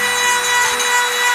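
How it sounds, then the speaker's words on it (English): A small rotary tool grinds the tips of a denture, giving a continuous high, hissing abrasive whir. It holds steady and close for a brief stretch, with no voices. "so you just kind of like grind on the tips of your dentures"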